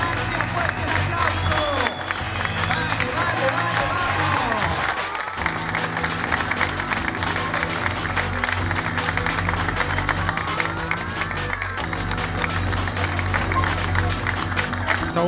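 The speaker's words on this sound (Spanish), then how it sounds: "También otro aplauso para el ganador de los 3K" Sustained applause and cheering from a crowd at a community 3K running race celebrating a club anniversary, loud steady clapping mixed with a babble of voices and someone speaking over the noise.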